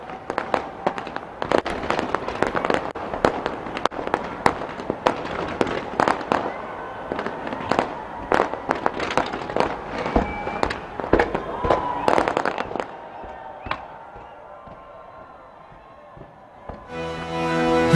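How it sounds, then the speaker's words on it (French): Midnight New Year fireworks over Auckland, New Zealand crack and pop in a dense, irregular barrage of sharp bangs for about thirteen seconds, then fade to a distant murmur before another sound cuts in. "puis ce feu d'artifice"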